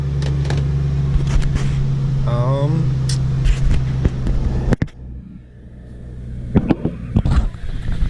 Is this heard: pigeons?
no